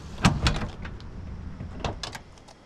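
A car door on a 1973 Plymouth Duster with a white interior opens with a couple of nearby latch clicks and thumps early on, then softer handling clunks, with no talking.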